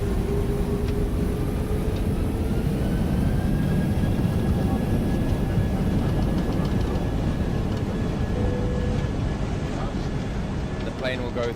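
An airplane flying a zero gravity flight gives a steady, loud cabin roar of engines and airflow that stays even throughout, with faint voices in the background.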